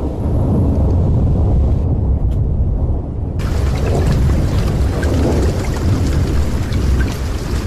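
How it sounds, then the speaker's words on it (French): Heavy rain pours steadily while thunder rumbles deep and close, a dense continuous storm wash with a brief dip in the high hiss partway through, used as a sound effect in a children's tale. "Ils bravent le tonnerre, les éclairs, la pluie."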